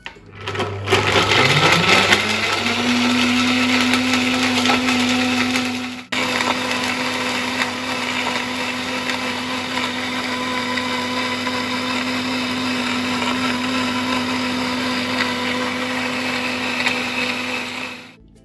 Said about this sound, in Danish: nu vil jeg lave en grøn smoothie, og den har en forudstillet knap til det